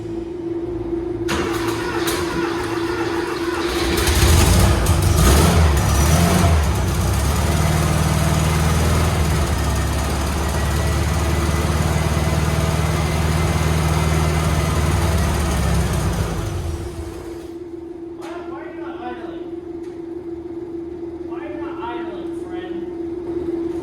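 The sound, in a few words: car engine running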